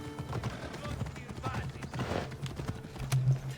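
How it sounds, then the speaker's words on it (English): Horse hooves clip-clop at a steady walking rhythm in Assassin's Creed Odyssey, close and moderately loud, with game dialogue running over them. "So Marie's telling me to get off my horse"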